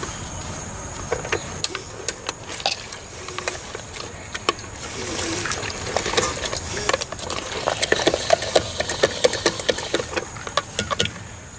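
A hand-cranked tomato strainer and sauce maker forces tomatoes through its auger, giving a continuous run of irregular squeaks, clicks and ratcheting mechanical scrapes up close, growing busier and louder toward the end.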